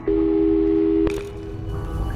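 A steady telephone tone in Portal 2 holds for about a second, then cuts off with a click, and fainter call tones follow.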